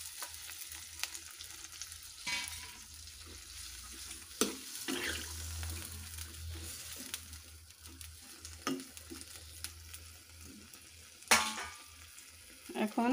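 Chopped pumpkin greens cooking in a pan with added water, a quiet bubbling simmer broken by irregular stirring knocks and clatters, louder bursts near the end, no talking.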